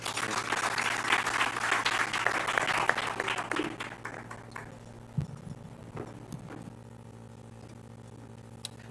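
Audience applause after a speech at a live political report event, loud and dense for about four seconds, then fading into a few scattered claps over a steady background hum.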